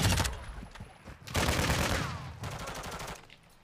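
Bursts of automatic gunfire in Call of Duty Modern Warfare II, loud rattling volleys in several clusters with short gaps, mostly free of talk.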